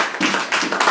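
Church congregation clapping in praise of God, a brief burst of dense, overlapping applause lasting under a second, loud and filling the room.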